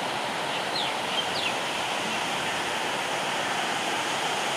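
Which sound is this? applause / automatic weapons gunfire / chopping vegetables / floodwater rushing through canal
floodwater rushing through canal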